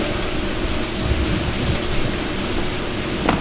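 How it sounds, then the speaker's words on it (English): Heavy pouring rain falls in a steady dense hiss around an apartment, with low rumbling underneath and occasional louder drops, continuous and fairly loud. "It's also pouring rain."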